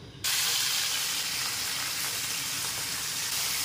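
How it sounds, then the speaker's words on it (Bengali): Marinated hilsa fish pieces, salted and coated in turmeric, drop into hot oil and fry with a loud, dense, steady hiss that starts abruptly and holds without a break. "এই দেখুন তেল গরম হচ্ছে, এবার এটার মধ্যে আমি একটা একটা করে দিয়ে দেবো"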